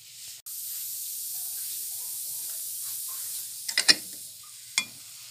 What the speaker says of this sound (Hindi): देखिए कैसे भाप चढ़ रही है